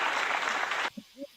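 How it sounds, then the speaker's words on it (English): Applause sound effect played during a sports-business talk show: a dense, steady burst of clapping that cuts off abruptly after about a second, followed by a brief faint tone. "I'm gonna give you guys claps for those comments."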